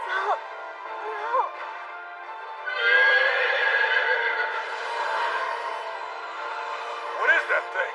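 A horse whinnies in repeated drawn-out calls, loud and near, overlapping a long howling creature cry in an animated scene.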